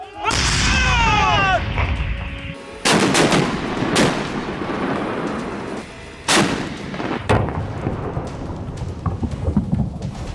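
Heavy gunfire on command, with loud booming volleys and sharp cracks in bursts separated by short pauses, close and dominating, with rumbling echoes after each blast.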